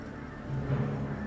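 Birds fly through the video game Ori and the Will of the Wisps, giving a low honking call over a steady wash of ambient game sound. The call is brief and moderately loud, with no speech.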